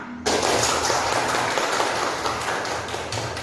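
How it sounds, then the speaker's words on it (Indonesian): Students in a vocational school classroom applauding together, a dense sustained patter of clapping that starts abruptly and continues evenly, close and loud. "mari tepuk tangan"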